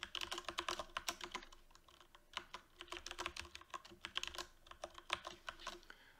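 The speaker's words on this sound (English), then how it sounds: "So I'll go ahead and type mine in real quick." A password being typed on a computer keyboard, quick runs of close, quiet key clicks with a short pause before a second burst of typing.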